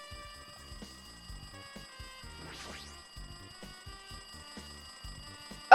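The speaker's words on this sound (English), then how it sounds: "Looks like that phone is ringing." A telephone rings in a video game, a bright electronic trill repeating in short rhythmic pulses over soft game sounds, with a sudden loud burst at the very end.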